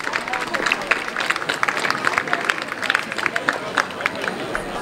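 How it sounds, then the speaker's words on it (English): Crowd applause for the players after an Under-17 Accorsi Cup school match between CBC and St Johns, with a steady wash of clapping and shouts, fairly close and sustained, with voices mixed in. "Give yourselves a huge round of applause"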